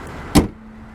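A 2005 Toyota Corolla S car door shuts with a single solid, heavy thud, close and loud, followed by a low steady hum.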